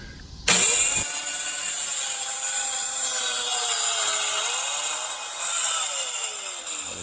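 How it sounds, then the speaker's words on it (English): Jigsaw cutting through a wooden board, starting abruptly and then running as a loud, continuous high-pitched buzz for several seconds, its pitch shifting slightly as the blade works through the wood. "cut this with a jigsaw since my circular saw will not completely fit, and I'll just finish the cut"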